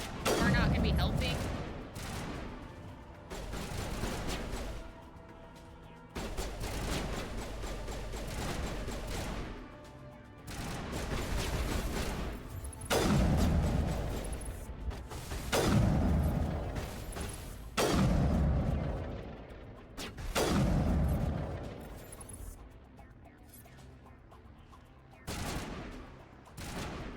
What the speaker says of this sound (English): Can you guys stop shooting things that are not gonna be helping?